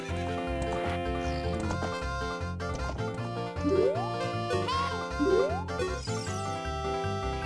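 Epona the horse whinnies in the Zelda Ocarina of Time video game, two rising neighs over a steady melodic game soundtrack, with no hoofbeats standing out.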